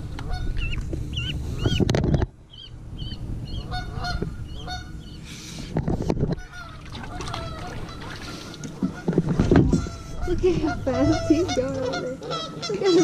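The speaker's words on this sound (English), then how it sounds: "there's a little goose baby right there." Honking from a small gosling and other geese near water, repeated calls scattered through the stretch, some close and loud, with splashing and outdoor background noise.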